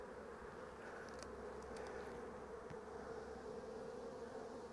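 Honey bees buzz steadily in a dense, continuous drone at an open orchard hive, sounding close, with a few faint brief sounds layered over it.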